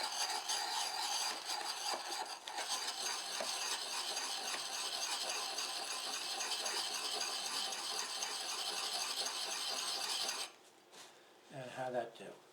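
Knife with a saber grind being sharpened on a coarse stone, a steady rasping scrape of steel over abrasive in continuous close strokes, stopping near the end with a brief clatter and handling noise.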